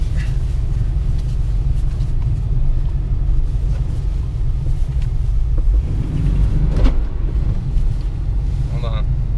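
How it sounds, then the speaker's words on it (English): A 1988 Toyota 4Runner with a 3VZE engine drives up a snowy incline, its low engine rumble steady and close, with wind buffeting and faint clunks near the end. "We're gonna have to test out four-wheel drive right now."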